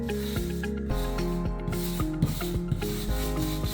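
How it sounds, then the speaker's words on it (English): A floor sander drones steadily with a rasping, rubbing grind over wood, its motor tone shifting slightly as it moves, loud and continuous. "I'm gonna go ahead and finish sanding the room"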